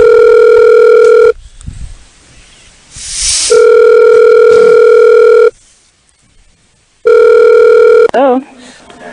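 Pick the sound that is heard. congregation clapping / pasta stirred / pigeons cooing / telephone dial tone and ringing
telephone dial tone and ringing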